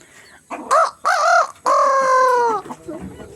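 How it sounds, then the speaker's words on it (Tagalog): Chickens clucking and calling nearby, with a few loud, drawn-out squawks in quick succession followed by softer clucks. "Ang dami yung manok."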